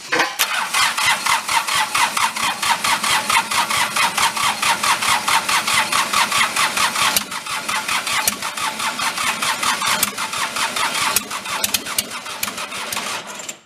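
A Bobcat skid steer, blown up and refitted with a used replacement engine, fires up and runs with loud, rapid, rough pulsing that continues close by throughout, dipping briefly a few times, with no talking.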